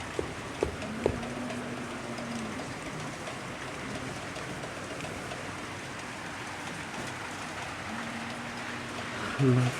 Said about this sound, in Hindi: बारिश छूटने वाला नहीं है क्या